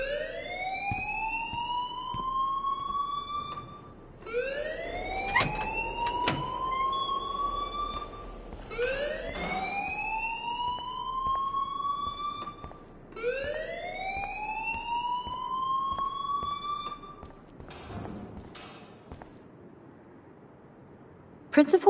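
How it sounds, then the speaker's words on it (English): A school alarm in the video game Life is Strange wails in repeated rising sweeps, about five cycles a few seconds apart, loud and continuous, with voices speaking beneath it. "please turn off that alarm since that's your job"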